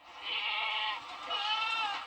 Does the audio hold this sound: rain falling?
no